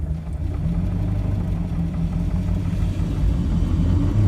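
Engine of a vintage Delage D8 Figoni car with a 4-speed gearbox runs steadily up close, a continuous low rumble that swells slightly toward the end as if pulling away in gear.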